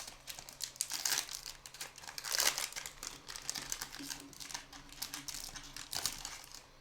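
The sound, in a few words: tearing open Pokémon card booster packs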